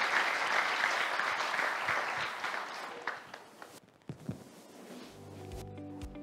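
Audience applause at a climate roundtable session for the panelists: a full, steady crowd clapping that thins out after a few seconds into scattered claps, then fades near the end as faint background noise takes over.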